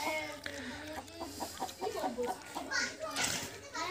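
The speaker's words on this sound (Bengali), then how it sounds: "মোরগ মারা হচ্ছে," A rooster being slaughtered squawks and clucks in short distressed bursts close by, mixed with children's voices and people talking over it.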